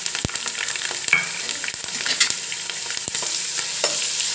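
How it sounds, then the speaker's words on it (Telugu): Onion paste hits hot oil already holding cumin and curry leaves, producing a loud, close, steady sizzle with a few sharp spatula taps and scrapes over a few seconds. "ఇప్పుడు ఆనియన్ పేస్ట్ వేసుకోండి"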